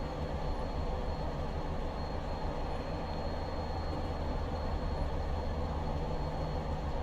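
A Class 205 diesel multiple unit runs steadily in Train Simulator Classic on the Brockenhurst to Salisbury route, a continuous low rumble and drone of engine and wheels with no pauses or talk.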